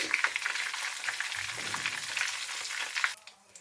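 Cumin seeds with green and black cardamom sizzle steadily in hot oil for a Pakistani chicken palak, a dense close crackle that fades out near the end.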